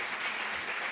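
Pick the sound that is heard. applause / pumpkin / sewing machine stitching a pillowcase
applause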